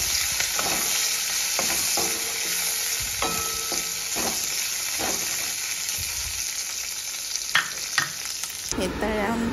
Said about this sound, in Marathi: 5-7 लसणाच्या पाकळ्या आणि 5-6 मिरच्या टाकून घेऊया, हिरवी मिरची। याला चांगलं तळून घेऊया।